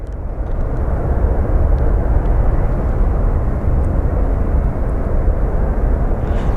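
A Boeing 757 airliner at Phoenix Sky Harbor airport roars steadily in a broad, dense engine rumble, loud and continuous with no talking over it.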